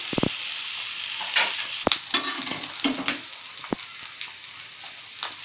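Mandeli fish fry in oil in a pan with a steady, close hiss and sizzle, broken by a few sharp crackles and the scrape of a utensil stirring or turning the pieces.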